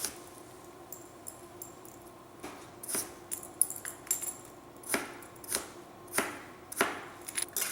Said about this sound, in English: I chop it into half and slice it and start dicing my onion.